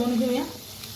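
Vada sizzling in hot oil while being fried on both sides, a short steady crackle with a low tonal hum running beneath it.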